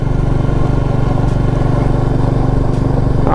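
A Royal Enfield Goan Classic 350 motorcycle engine runs loud and steady throughout, a continuous low thumping drone with no break, close to the rider.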